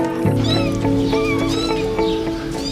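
Several small kittens mew repeatedly in high, thin overlapping cries, close by and continuous.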